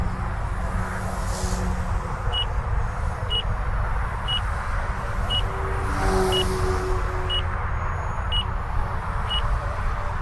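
Short high beeps from the flight timer of an OMPHOBBY M2 Explore 3D RC helicopter repeat at an even pace about once a second, set over a loud constant rotor and motor whine with a wind-like roar.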